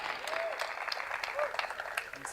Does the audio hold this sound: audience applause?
yes